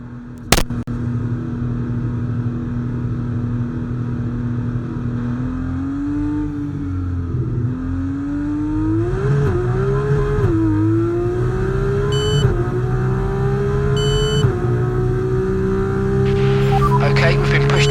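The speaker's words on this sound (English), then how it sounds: "Okay, engine's fired up, we're set." A race car engine in a racing video game drones steadily throughout, its pitch rising and falling as it revs, while a voice talks over it.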